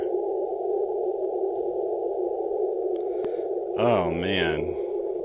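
Steady band noise hiss from a ham radio receiver during a portable field operation at a lake state park, a continuous wash with a brief warbling tone near the end.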